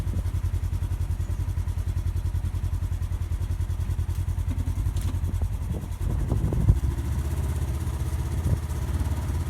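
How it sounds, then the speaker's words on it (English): A Polaris Ranger side-by-side engine running steadily at a low throbbing rumble while dragging a heavy 300-pound desk through mud, with some clattering and scraping bumps near the end. "Polaris Ranger pulls like 300-pound desk."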